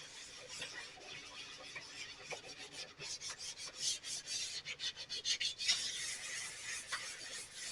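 A plastic headlight lens is wet-sanded by hand with 400 grit sandpaper. A close, continuous raspy rubbing starts steady, then turns into quicker back-and-forth strokes that grow louder toward the end.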